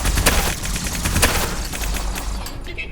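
Gunfire in the video game MiSide: rapid bursts of shots crackle in a dense, loud volley, fading slightly toward the end.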